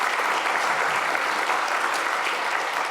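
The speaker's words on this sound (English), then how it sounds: "round of applause, I think" A student journalism masterclass audience claps in sustained, dense applause, loud and even throughout, with no voices over it.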